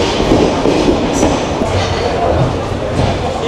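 A train entering Airport railway station on a Dhaka to Rajshahi nonstop run, heard from on board as a loud, continuous rattling rumble of wheels and carriage, with no clear pauses.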